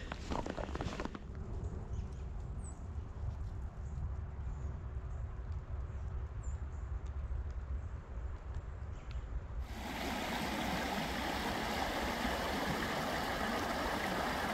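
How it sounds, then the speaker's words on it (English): Continuous rushing of flowing water in Hammer Creek after the first snow, steady throughout, growing louder and brighter toward the end. "Again, Hammer Creek here, just absolutely beautiful."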